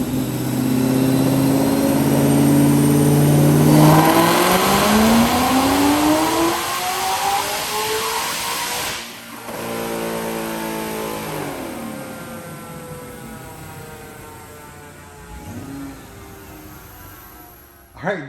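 Supercharged 2014 Ford Shelby GT500 with a 4.2L Kenne Bell blower on a chassis dyno, engine roaring loud and climbing in pitch through a long pull, then cutting off and winding down as the rollers spin out.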